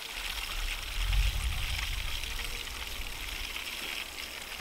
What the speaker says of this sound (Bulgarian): Пуснах водата и сега тук ще дам on да се включи.